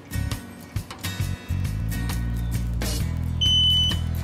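A few thuds and handling noises, then a steady electronic hum from a Sally Hansen SensationNAIL gel LED nail lamp, ending with a short series of quick high-pitched timer beeps after 30 seconds.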